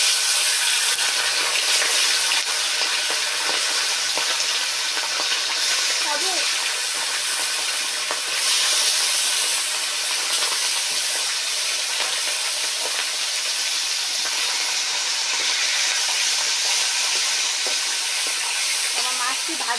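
Fish fries in hot oil in a Bengali home kitchen, giving a continuous bright sizzle and hiss with occasional spattering crackles, steady and close throughout.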